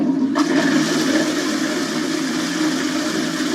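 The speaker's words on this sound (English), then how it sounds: "This is the sound of diarrhea flushing your day away." A toilet flushes in one steady, loud rush of water that runs through the whole stretch, with a brief sharp onset at the start and no voices.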